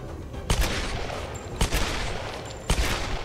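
Video game gunfire from two guns: three loud, sharp bursts spaced about a second apart over a steady background rumble, with no talking.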